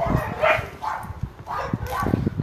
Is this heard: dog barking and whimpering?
yes